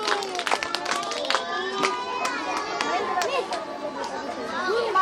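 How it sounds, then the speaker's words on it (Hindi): An audience claps in a burst of scattered, uneven applause near the start, mixed with crowd chatter and children's voices that carry on after the clapping fades. "ताली हो जाए।"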